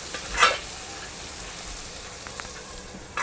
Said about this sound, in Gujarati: ગેસ ધીમો જ રાખવાનો છે ને ધીરે ધીરે હલાવતા રહીશું આપણે અહીંયા